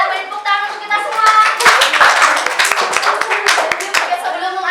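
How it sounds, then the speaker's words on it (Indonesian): A classroom group claps together during a microteaching lesson, a dense burst of many hands building and sustaining for several seconds, loud and close, with a voice speaking over the start. "Beri tepuk tangan untuk kita semua"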